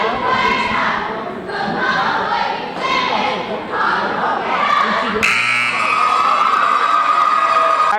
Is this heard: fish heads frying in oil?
no